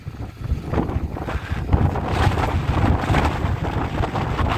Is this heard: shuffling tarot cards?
no